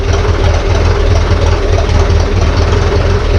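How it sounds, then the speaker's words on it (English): A vintage Ferguson tractor engine runs steadily with its PTO shaft and clutch turning, a loud, continuous low rumble with a regular throb and no talk over it. "the PTO is running now, and you can see that centre shaft with the clutch lining is turning"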